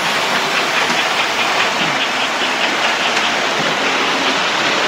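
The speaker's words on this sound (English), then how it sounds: "I've got two of my trains running." A steady rumbling rush of an American Flyer model electric train running on track, with faint rhythmic clicking and a constant hiss, continuous and close.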